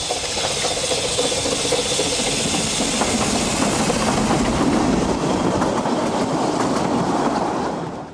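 Narrow gauge steam locomotive Prince hauls heritage rolling stock on a short Welsh shuttle service, giving a steady, loud rolling rumble with continuous clickety-clack of the wheels that fades slightly at the end.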